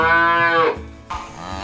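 A cow on a homestead calls for her calf with one long, loud, low moo that slides downward, heard close, followed by a quieter stretch of lowing.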